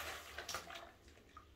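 A goat down garment is hand washed in a basin of water, making soft sloshing and swishing sounds in short, uneven strokes, close and fairly quiet, with no talk.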